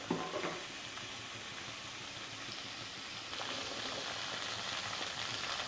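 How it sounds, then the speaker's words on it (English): A quarter kilo of onions fries in hot oil for an Andhra-style chutney, giving a steady, faint hissing sizzle that grows slightly louder partway through, with no talking. "Let's add onions to the hot oil now."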